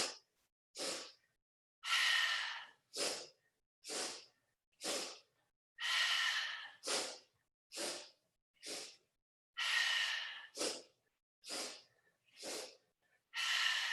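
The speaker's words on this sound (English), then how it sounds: "breath of joy being an inhale, inhale, inhale, exhale." Yoga breath of joy breathing: about fourteen sharp, loud breaths close up, arranged in repeating sets of quick inhales followed by a longer exhale, with brief silences between them and no talking.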